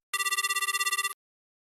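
Telephone ringing while calling tech support: a single burst of rapid electronic trilling, about one second long, loud and clear against silence.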